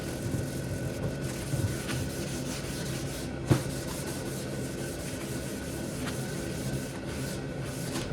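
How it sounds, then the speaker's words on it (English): A disposable foam brush spreads Varathane Weathered Gray gel stain across pallet wood, making faint, steady, close rubbing strokes in a quiet space. "I'm just using a disposable foam brush to put the stain on."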